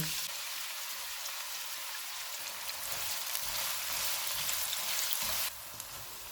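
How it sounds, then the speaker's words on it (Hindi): Two onions go into half a cup of hot oil for golden frying, giving a steady close sizzle and crackle that holds for several seconds and then eases slightly toward the end. "ऑयल गर्म हो गया, इसमें 2 प्याज डालेंगे और इनको गोल्डन फ्राई करेंगे।"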